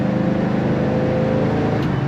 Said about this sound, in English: Very nice sound coming out the tailpipes.